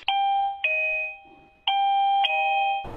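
A two-tone doorbell chime rings twice in succession, clear and close, each ding-dong ringing out with a sustained electronic tone.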